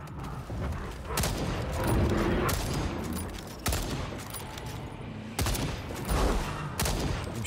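Rapid gunfire from a shooter video game, Second Extinction, fired at a dinosaur, with bursts of shots and booms running continuously and loudly over a busy, dense background of game noise.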